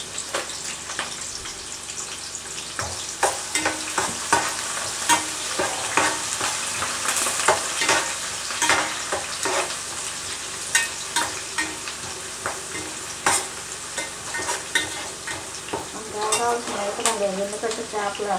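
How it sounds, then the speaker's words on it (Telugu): Onions frying in oil with curry leaves, stirred repeatedly as fish curry with potato is prepared; a steady sizzle runs throughout with regular scraping stir strokes, close and fairly loud, no talking. "ఉల్లిపాయలు పచ్చివాసన పోయేదాకా ఉడికిద్దాం. నూనెలో ఉడకాలి."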